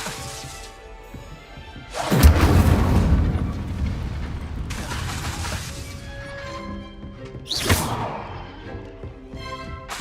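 Incendio fire spell in Hogwarts Legacy erupting in a loud burst of crackling, roaring flame that swells then fades, followed by a second sharp whooshing flare-up near the end.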